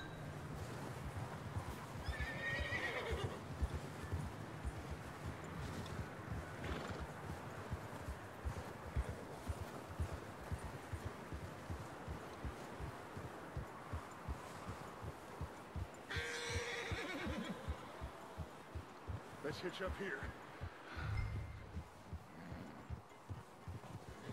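A horse whinnies twice amid steady clip-clop hoofbeats in Red Dead Redemption 2, with a busy game soundscape running underneath throughout.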